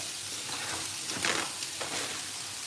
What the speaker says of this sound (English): You want to stir fry this first quickly before you add your sauce.